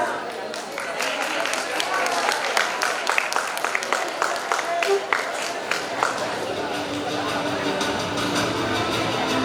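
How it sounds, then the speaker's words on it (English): An audience at an award ceremony applauds in a dense, steady wash of clapping that fills the hall, with crowd murmur and a voice over it. "Give them a huge round of applause."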